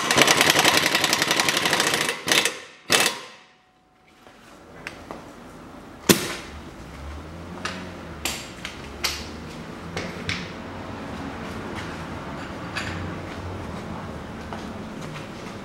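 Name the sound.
tightening ball joint nut on Toyota Mark II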